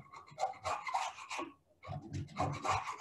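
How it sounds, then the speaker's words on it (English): A chisel scrapes excess warm glue off a Concept2 oar blade during a blade replacement, two close, rough rasping bursts separated by a short pause. "take your chisel. And just clean off all the excess glue."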